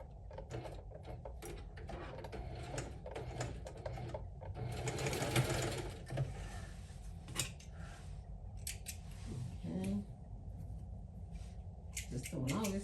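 A sewing machine stitches a quilted crossbody handbag in steady near bursts, joined by scissor snips and small mechanical clicks, with a person talking quietly at moments.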